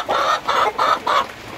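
Chickens in a coop cluck close by in four even, rhythmic bursts, loud and clear with no talking.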